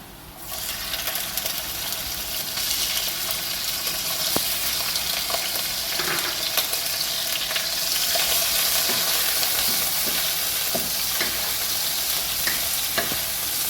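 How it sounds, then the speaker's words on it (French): Shrimp frying with garlic in a hot pan for Thai shrimp fried rice, a steady loud sizzle with occasional stirring clinks and scrapes, no talk. "พอกระเทียมเริ่มหอมก็ตามด้วยกุ้งค่ะ"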